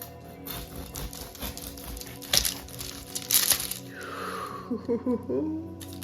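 A knife saws through a gluten-free, yeast-free fermented millet bread loaf, giving scattered crackling, crunchy crust snaps and soft scraping strokes up close, followed by a faint whooshing sweep.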